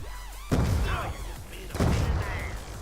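A grenade blast from Black Ops 2 Zombies on the Buried map: two heavy, muffled booms about a second apart, the second following a short lull, loud and close amid game noise.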